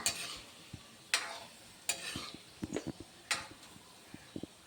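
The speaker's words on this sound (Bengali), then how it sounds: "ভাজলে এটা ফুলবে জিনিসটা।" Gulab jamun frying in hot oil, gently stirred: a faint sizzle under sharp intermittent scrapes and taps of a utensil against the pan, quiet and close with no talk.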